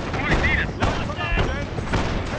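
Gunfire and artillery rumble from the WWII strategy game Company of Heroes, in the Liberation of Caen mission at Authie: repeated booms and shots mixed with shouted voices, loud and continuous.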